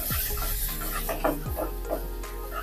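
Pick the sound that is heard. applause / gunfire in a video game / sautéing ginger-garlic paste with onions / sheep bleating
sautéing ginger-garlic paste with onions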